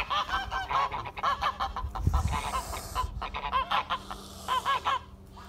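Toulouse geese honk repeatedly in a steady series of nasal calls, fairly close, with a brief low thump partway through and no talking.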